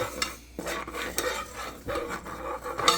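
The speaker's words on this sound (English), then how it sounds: "Let's go ahead and stir this up." Annie's shells and white cheddar macaroni gets stirred in a pot, with repeated close scraping and sloshing strokes and a spoon clinking against the metal in an uneven rhythm.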